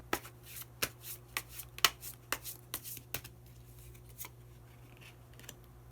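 Tarot cards are riffled and shuffled by hand in close, crisp bursts of papery flicks and snaps, a dozen or so sharp strokes over a quiet room with no talking.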